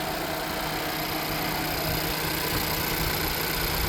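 Idling 1.5-liter naturally aspirated engine in a 2021 Honda CR-V that has been in a front-end collision, a steady, even hum with a low constant drone and no change in pitch.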